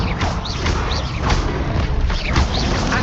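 The Incendio fire spell from Hogwarts Legacy bursts out as a loud, dense roaring whoosh of flame with rumbling low booms, sustained and close throughout.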